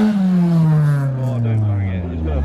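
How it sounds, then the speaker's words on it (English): A car fitted with a new exhaust system and large tyres roars close by, a loud, deep engine note that slowly drops in pitch as the revs fall over a couple of seconds. "Rev it, please!"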